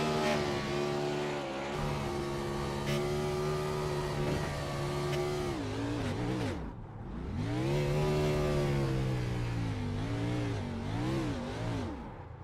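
Race car engine in a racing video game, on the front stretch at Charlotte with an exhaust flaring rig, holding a loud, steady high-pitched drone that dips briefly mid-run, then climbs again as it revs back up.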